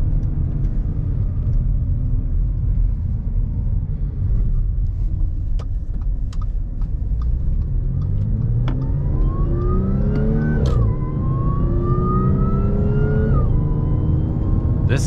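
Supercharged engine of a 2014 Audi S5 B8.5 on a drive, a loud continuous rumble with rising revs climbing through gears and sustained acceleration, no talk.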